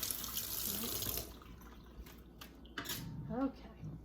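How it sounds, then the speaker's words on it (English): Tap water runs into a kitchen sink as hands are washed, a steady splashing flow that cuts off abruptly, followed by faint drips and handling sounds while someone speaks quietly. "Wash my hand."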